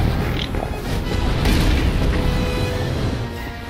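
A bomb going off during a hard-mode video game boss fight against the G4-B3 Heavy Fabricator: deep, rolling booms and bursts layered into a steady, loud rumble of combat noise.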